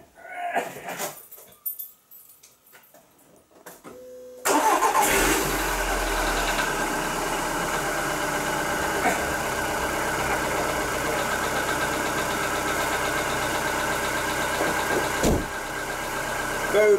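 A car's engine cold-starts after quiet handling noises, catching abruptly and settling into a loud, steady idle that holds close by, with a brief rev spike near the end.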